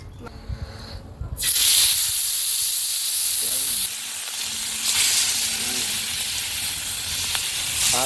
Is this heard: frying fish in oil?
yes